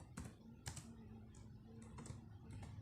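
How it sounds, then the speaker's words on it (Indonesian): Typing on a computer keyboard while saving an HTML file, a handful of sparse, faint key clicks at an irregular pace over a low hum, with no talking. "Lalu kita ketik judulnya"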